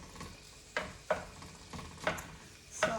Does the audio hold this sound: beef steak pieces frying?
yes